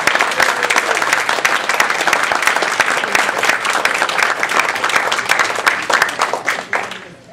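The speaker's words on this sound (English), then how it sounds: "Keep your applause going for all our contestants." A Toastmasters division contest audience applauds its contestants, the crisp hand claps loud and sustained for several seconds before tapering off at the end.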